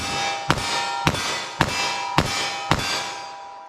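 Five .38 Special +P 158-grain handload gunshots fired from a 4-inch revolver barrel at an outdoor range, sharp loud cracks spaced about half a second apart, each trailing a brief ringing decay.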